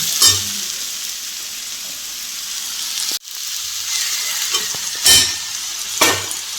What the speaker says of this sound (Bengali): এবার আমি গরম জল করে রেখেছি, গরম জলটা দিয়ে দিলাম।